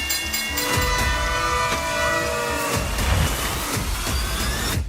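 Train passing without slowing, a loud rolling rumble with tonal squeal and horn-like harmonics fading over the first seconds, then clattering wheel impacts continuing close by.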